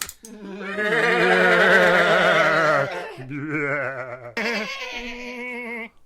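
Sheep bleating as a radio show sound effect: loud, wavering bleats close up, one long call followed by two shorter ones, heard alone without talk.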